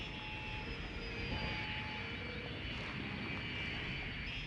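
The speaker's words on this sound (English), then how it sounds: "There's a plane flying over the motorway." A fixed-wing airplane in the city-building game Cities: Skylines flies over a motorway, giving a steady, faint broadband engine drone that holds evenly throughout with no talk.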